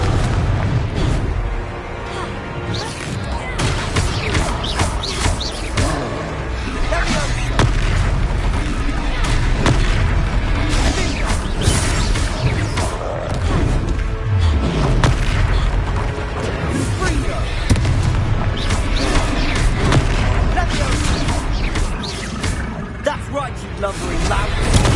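Repeated fiery Confringo spell blasts and booming explosions erupt in a busy Hogwarts Legacy battle, a dense loud barrage of thuds and bursts layered with game noise and voices throughout.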